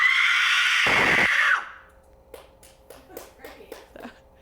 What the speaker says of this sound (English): Yeah, that's my scream.